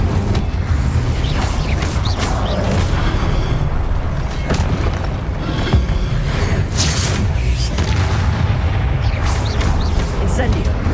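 Incendio fire spells cast in Hogwarts Legacy, dense loud whooshing bursts and booming impacts that repeat over a constant roar of combat effects, with no pause between casts.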